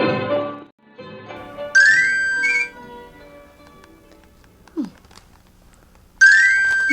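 Mobile phone text message notification tones, two bright rising electronic chirps several seconds apart, set among quieter room sounds, faint tones and brief soft noises, with a short voice-like sound at the start.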